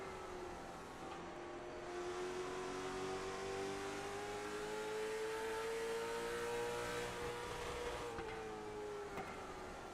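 Late model stock cars racing in the iRacing video game at New Smyrna, a steady loud engine drone with rising and falling pitch as cars battle close behind, continuous throughout with a brief dip near the end.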